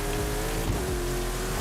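A RTR Brocky Ultra4 Bronco off-road truck drives at speed in Forza, its engine giving a steady, continuous drone with road or surface noise layered over it and no voice present.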